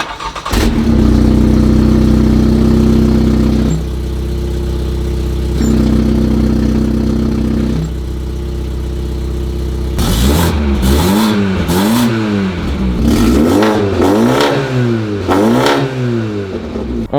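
BMW 330e revving through a valved exhaust backbox: two long loud sustained revs with a pause between, then a series of quick sharp throttle blips rising and falling, close and alone.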